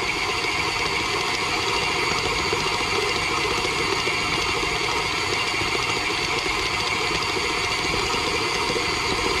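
KitchenAid stand mixer, twelve years old, creaming cookie dough, giving a steady, loud motor whir that runs unbroken and evenly throughout with no talking.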